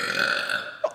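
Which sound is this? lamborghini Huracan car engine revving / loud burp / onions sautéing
loud burp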